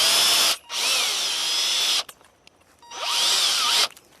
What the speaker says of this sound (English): So to drill the holes for that, I'm going to use a 5/16 inch drill bit.